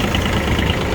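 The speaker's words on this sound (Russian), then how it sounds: "Давайте трактор запустим, посмотрим, как работает." A Kubota B1-17 mini tractor engine runs steadily at idle, a dense low rumble close by with no pauses.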